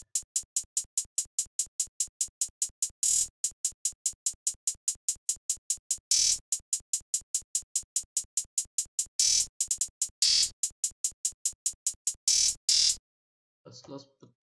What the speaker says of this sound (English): Hi-hats, yeah, it's this hi-hat right here.